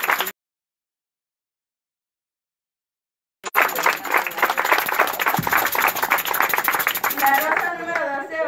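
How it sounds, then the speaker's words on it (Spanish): Applause from guests at a quinceañera party bursts in loudly after a short pause and continues as steady, dense clapping, with voices and cheers mixed in. "¡Fuerte los aplausos!"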